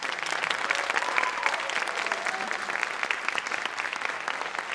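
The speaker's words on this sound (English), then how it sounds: "Can we have a round of applause?" Audience applause at a high school drama awards and season announcement, steady crowd clapping held at a moderate, somewhat distant level throughout, even and unbroken.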